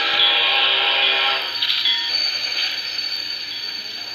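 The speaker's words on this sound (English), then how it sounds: "I'll tell you when I derail my train" A game train derailing at a Halloween-themed layout: a loud, dense mechanical clatter with a grinding, ratcheting hiss that breaks up after about a second and a half, then trails off into softer rattling.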